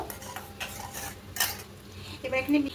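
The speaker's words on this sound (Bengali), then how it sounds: "দিয়ে খুব ভালো করে মিশিয়ে নেব।" Spoon or ladle scraping and knocking in a pot as chicken biryani is mixed with orange food colour, a few soft stirring scrapes and clinks close by with no voices.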